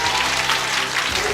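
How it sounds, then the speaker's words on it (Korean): A church congregation claps together at a Korean revival service at Wolseong First Church in Daegu, producing dense, steady applause that fills the room throughout. "우리 주님께 영광의 박수 올리겠습니다"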